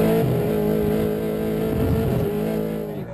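V8 drift cars at Manfeild Raceway during a national drifting round produce a loud, close engine roar with rising and falling revs and harmonic drone, fading slightly at the end.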